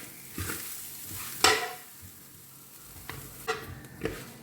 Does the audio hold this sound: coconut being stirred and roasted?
yes